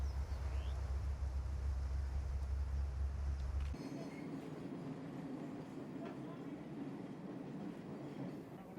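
A classic steam train runs through African countryside on the Nairobi-Mombasa line, a steady loud rumble of wheels and carriages that shifts partway through to a lighter rolling clatter, continuous throughout with no talk.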